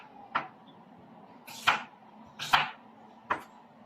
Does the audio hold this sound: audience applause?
no